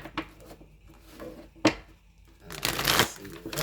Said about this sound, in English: Let me get a few more shuffles on this.